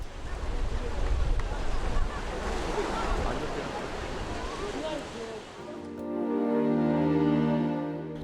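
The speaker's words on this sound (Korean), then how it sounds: "파도 소리에 이끌려 정처 없이 따라 나선 곳은 격포 채석강" Ocean waves wash against the layered sea cliffs of Chaeseokgang at Gyeokpo, a steady, loud surf roar with wind noise that thins after a few seconds into a lower swell.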